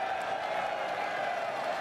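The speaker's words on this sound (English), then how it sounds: "Can we get a round of applause for YNK?" Live esports crowd at a grand final, a broad steady wash of applause and cheering filling the arena at moderate distance, continuous throughout with no single voice standing out.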